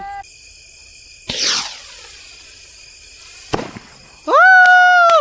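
A homemade rocket sky shot firework bursts with two sharp, loud cracks a couple of seconds apart, followed by a strong, steady whistling tone that starts near the end.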